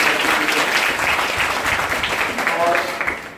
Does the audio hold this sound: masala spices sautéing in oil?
no